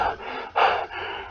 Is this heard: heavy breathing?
yes